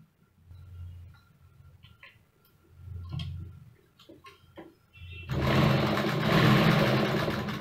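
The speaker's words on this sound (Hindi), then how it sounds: "यहां से इसको सिलाई करना अब स्टार्ट कर दें" Sewing machine stitching a blouse sleeve, a soft ticking hum at first, then a louder, steady run of fast stitching for the last couple of seconds, with no speech.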